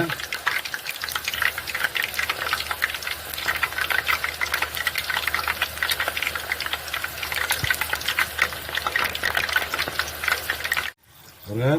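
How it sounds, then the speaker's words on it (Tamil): Chana dal crackles and bubbles steadily in hot oil, a dense close-up sizzle that continues throughout before cutting off near the end. "இந்த கொதிக்கிறது அடங்கினாலே போகிறோம், நல்லா பொரிஞ்சிடுச்சுன்னு அர்த்தம்"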